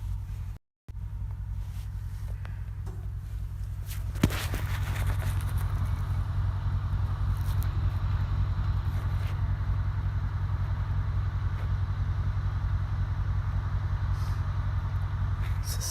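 A Mercedes car engine idling close by, a steady low rumble with a constant hum that holds at one level after a brief dropout and a small knock near the start.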